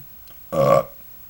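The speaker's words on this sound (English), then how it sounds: "Pardon me, burp." A person lets out a single loud, brief burp lasting about a third of a second, close to the microphone, with quiet before and after.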